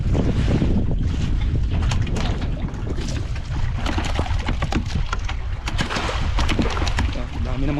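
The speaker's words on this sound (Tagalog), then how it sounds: "Huwag kang maglakas ang hangin." Strong wind roars and buffets the microphone continuously on a fishing boat, with water sloshing and the boat creaking faintly underneath.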